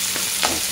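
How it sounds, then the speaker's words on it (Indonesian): Tofu being mashed in a hot wok while stir-frying, a continuous sizzle under two brief soft scraping strokes, with no one talking. "Saya lenyek-lenyek tahu dia macam ni"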